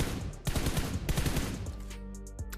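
Automatic gunfire in the mobile shooter PUBG Mobile, a rapid loud burst of shots for about a second and a half, then a fading tail with a couple of lighter clicks.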